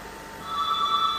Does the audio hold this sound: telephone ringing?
yes